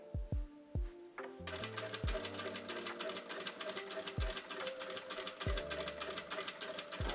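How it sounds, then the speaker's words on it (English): A sewing machine top stitches folded elastic in a fast, steady chatter after a few soft thumps, running close and moderately loud. "Now fold it over and top stitch."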